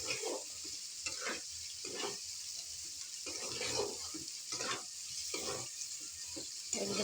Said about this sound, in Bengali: আমার একটু জল দিয়ে দেবো